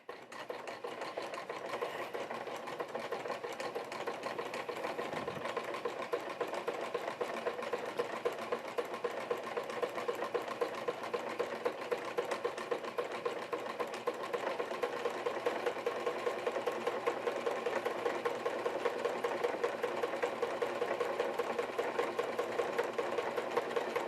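Sewing machine stitching black thread into tan leather chaps, running in a steady, continuous close-up whir with a fast stitching rhythm and no pauses or talk throughout.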